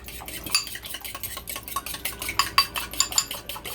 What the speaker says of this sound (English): I'm gonna beat 2 eggs into it.